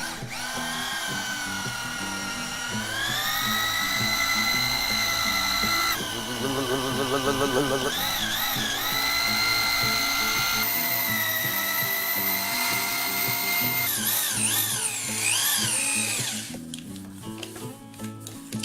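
A drill mixer churns tile thinset mortar in a bucket, a loud continuous whining drone with shifting pitch as the paddle speeds up and slows, running close and alone almost throughout.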